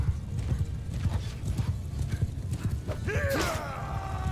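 Steady clip-clop of horse hooves in a video game, a close, rhythmic trot running throughout, followed by a loud whinny near the end.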